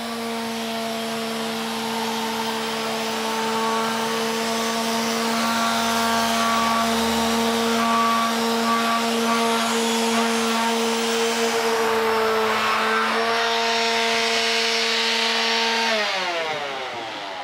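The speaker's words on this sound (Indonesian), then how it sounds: "dia masih bisa dipikul untuk secara berbarengan, baik dari gerinda ataupun seat sander" An angle grinder and a sheet sander run together off a portable power station of roughly 600 watts, giving a loud, steady whine with a constant tonal hum that holds for most of the stretch, then winds down near the end.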